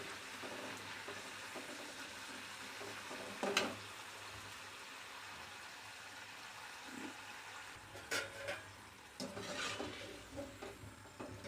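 Faint, steady sizzling of potato chips frying in oil, with a few soft clinks and stirring noises scattered throughout.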